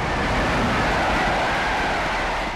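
A cartoon train rumbles past in the Tayo animated series, a loud, steady, continuous roar of rolling wheels that fills the whole moment without letup and with no talking.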